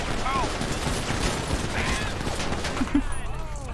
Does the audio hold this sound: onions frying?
no